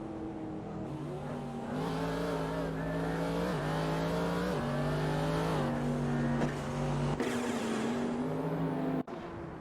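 GT3 and hypercar-class race cars roar around the Spa circuit in a racing video game, their engines rising in pitch through the gears with repeated shifts. The sound is loud and continuous, with a brief squeal of tires.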